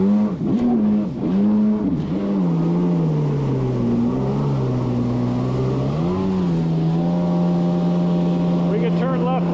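A Yamaha WaveBlaster 2 jet ski runs across open water, its engine droning loudly and steadily with pitch rising and falling as the throttle changes, the rider close by.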